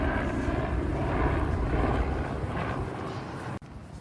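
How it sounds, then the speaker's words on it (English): A helicopter passes over a beach on an Australian coast, a steady loud rotor and engine drone that holds fairly even throughout, then drops off abruptly near the end. "Oh, it's a helicopter."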